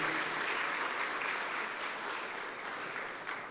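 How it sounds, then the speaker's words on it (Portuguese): Church congregation applauding together, a steady, dense wash of clapping that holds at an even level throughout without any voices on top. "Só você que crê, dá um aplauso aí bem forte ao Senhor"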